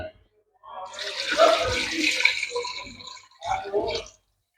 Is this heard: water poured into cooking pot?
yes